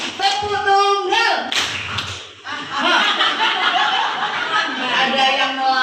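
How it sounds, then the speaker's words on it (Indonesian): A group in a training session doing a single unison clap, one sharp burst near the start amid talk, then chuckling and laughter from the room. "Tepuk tunggal."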